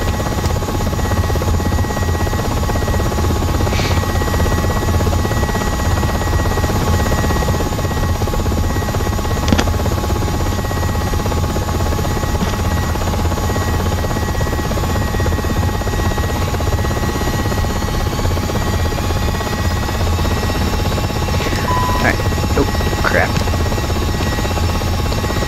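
A UH-60M Black Hawk helicopter sits idling on the ground in Aerofly FS4, a steady turbine whine and rotor drone running unbroken throughout, with a few faint clicks and tones over the top.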